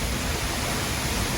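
Steady roaring rush of a waterfall in Iceland, loud and close, a dense continuous broadband wash with no breaks, alone throughout.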